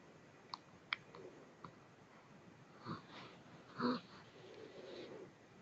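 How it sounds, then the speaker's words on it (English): Computer mouse clicks while working in Canva: a few sharp, quiet clicks spaced a second or so apart, with soft breathing and faint room noise between them. "I'm going to click on"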